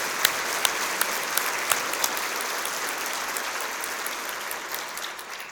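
Audience at a State of the City address applauding steadily, a dense sustained clapping with a few sharp individual claps standing out, tapering slightly near the end.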